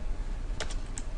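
Quick keystrokes on a computer keyboard as a web address is typed into a browser, a few soft close taps over a low background hum, very brief.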